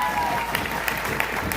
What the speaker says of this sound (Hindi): आप बजाओ तालियां ठोस वाली 20 करोड़ वाली